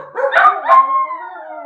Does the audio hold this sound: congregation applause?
no